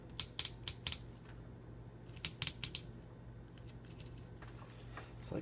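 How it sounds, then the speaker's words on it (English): Knife cutting through a trout's backbone just behind the head, giving a series of faint, close, crisp snips and crunches in small clusters over a low steady hum. "I'm just going to cut through these bones right here."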